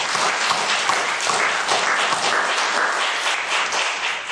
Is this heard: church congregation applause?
yes